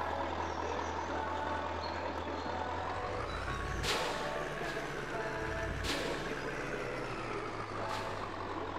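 A heavy truck in Farming Simulator 22 drives with a steady low engine drone and road rumble. The note shifts as gears change, and short air-brake hisses or clunks punctuate it. No one talks over it.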